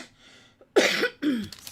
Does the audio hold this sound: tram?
no